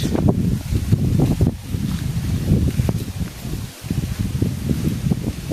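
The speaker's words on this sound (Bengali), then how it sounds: "দেখুন গাইস, কি প্রচন্ড বাতাস, এখানে প্রচুর বাতাস।" Strong wind blows through a village mango orchard, buffeting the microphone with a loud, rumbling gusty roar and faint leaf rustle, with one brief lull.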